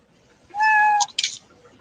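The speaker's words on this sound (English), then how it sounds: "we got another cat joining the show" A house cat gives one clear, fairly close meow, a drawn-out tonal cry followed by a short second call, heard alone against quiet room noise.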